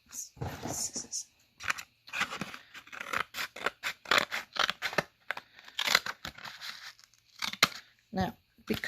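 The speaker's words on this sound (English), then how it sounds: "Scissors." Scissors cut open a cardboard stock cube box in a quick run of sharp snips and crisp tearing cuts with short gaps between them, close up, with some speech mixed in.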